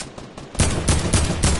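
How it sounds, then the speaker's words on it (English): Loud gunfire in an online shooter video game, a rapid run of several close shots cracking in quick succession. "Someone just sniped at me too."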